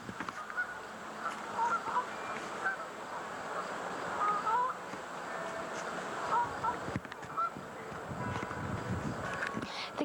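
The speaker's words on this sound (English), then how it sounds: "The geese are here because they're migrating south for the winter" Canada geese migrating south in autumn honk repeatedly outside an elementary school, scattered calls rising over steady outdoor background noise, fairly distant, with some voices faintly mixed in.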